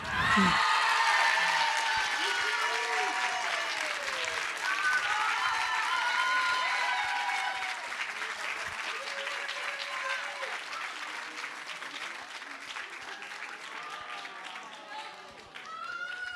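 Audience applauding a public prize winner at an evening academic thesis presentation competition, loud sustained clapping from a crowd with a voice speaking over it, tapering slightly toward the end.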